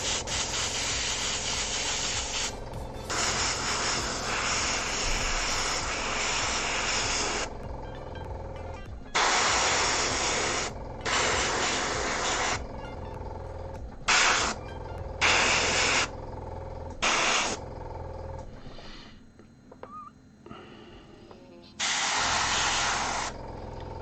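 Airbrush spraying bluish grey paint onto a Warhammer 40k Space Marine miniature, a close, loud hiss coming in bursts of several seconds separated by short quiet gaps.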